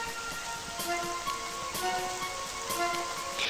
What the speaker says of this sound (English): Better get out of the rain.